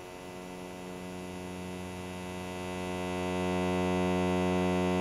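A synth ramp wave runs through a BMC86 diode high-pass filter as the cutoff sweeps downward, giving a steady, buzzy harmonic drone that swells louder toward the end, with no voices.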